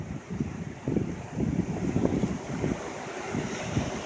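Gusty wind roaring outdoors during a February snowstorm, buffeting the microphone in strong, uneven surges for about four seconds, with no talking.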